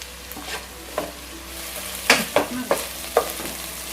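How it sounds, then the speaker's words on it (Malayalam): Finely chopped onions fry with salt in a pan for prawn biryani, a low steady sizzle under repeated scraping strokes of a spoon stirring, close up and with no voices. "ഞാൻ 4 സവാള ചെറുതായിട്ട് അരിഞ്ഞെടുത്തിട്ടുണ്ട്. ഇതിലേക്ക് ഉപ്പും കൂടെ ചേർത്ത് കൊടുക്കാം."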